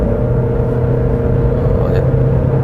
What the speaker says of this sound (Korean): 어쨌든 가속 페달을 쭉 밟으면은